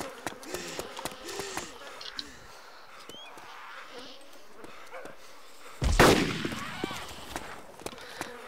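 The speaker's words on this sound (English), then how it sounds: "Oh, was that you shooting?" A single loud gunshot bursts out in DayZ at Stary Sobor, followed by a short ringing tail, set against buzzing insect-like ambience, scattered clicks and footsteps, with a voice talking.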